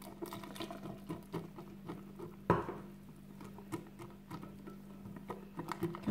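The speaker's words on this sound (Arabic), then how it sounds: "غادي نخلط غير بهذا الخلاط اليدوي" A hand whisk stirs cake batter in a bowl as milk is mixed in, giving a quiet, rapid clicking patter with one sharper knock midway.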